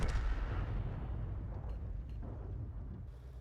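A heavy boom of tank gunfire from a T92 HMC tank video game opens the clip, followed by a rumbling decay and fainter distant shots, with no one speaking.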